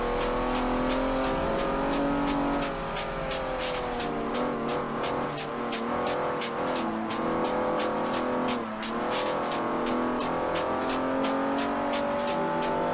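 A classic Ferrari engine drones steadily as the car drives through Colorado mountains in the Forza Horizon video game, with a loud sustained tone, gentle rises and dips in revs, and a rapid ticking pulse throughout.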